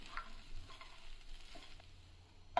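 A spoon stirs sago pulao with fried cashews, raisins and peanuts in a pan, giving soft faint scraping and light sizzling patter, ending with a brief sharp clink.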